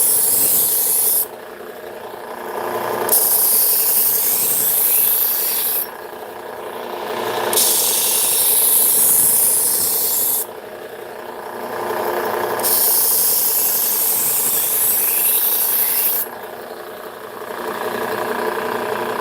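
A KitchenAid santoku knife is sharpened with long, even abrasive strokes, a loud rasping hiss that repeats in four drawn-out passes with short quieter gaps, over a low mechanical hum.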